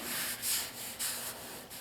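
Rough, gritty sanding scrapes in steady back-and-forth strokes on fiberglass filler over a 1964 Impala quarter panel, close and fairly loud, with no talking.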